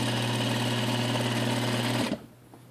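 A Juki DDL series lockstitch industrial sewing machine runs a steady, loud, close stitching hum for about two seconds, then stops abruptly, leaving quiet room tone.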